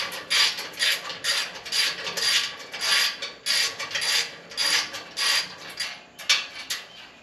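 Bolts on a Vulcan welding cart are tightened with a ratchet during assembly: a close, steady run of about a dozen quick rasping clicking strokes in an even rhythm, with no talking.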